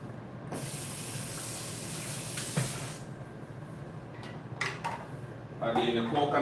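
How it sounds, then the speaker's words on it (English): Coconut milk pours into a cooking pot in a steady, faint rushing stream for about three seconds, then scattered kitchen knocks and clatter follow as someone speaks in the background. "Adding the coconut milk."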